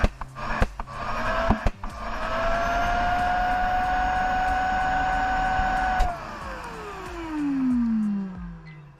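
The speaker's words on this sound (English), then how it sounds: "So we've seen the new Planex with the CTM36 AC dust extractor in action" A Festool Planex LHS 2 225 long-reach sander running with a CTM36 AC dust extractor: a few clacks at the start, then a loud, steady whine and whoosh of motor and suction that winds down with a falling pitch, with no talk.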